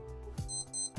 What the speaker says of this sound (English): so it will give a beeping sound like this